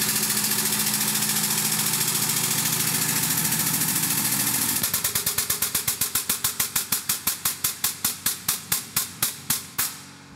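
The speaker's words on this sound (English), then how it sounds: "close the release, and pump it up." A hand-pumped press moulding an edible bowl from food material makes a steady run of sharp mechanical clicks and thumps, first dense and blurred, then slowing into distinct, evenly spaced strokes with a hum beneath, close and loud with no talking.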